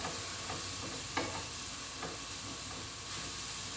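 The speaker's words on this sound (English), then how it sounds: "I love right away that smell of that garlic and ginger hitting the pan" Fresh garlic and ginger sizzling in a hot pan, a steady broadband frying hiss with a couple of soft stirring clicks, close and even, no voices.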